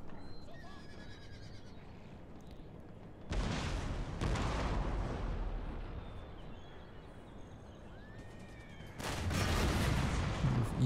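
Musket volleys in Empire Total War battle, bursts of crackling rifle fire swelling over a constant battlefield din, with horses whinnying in the background.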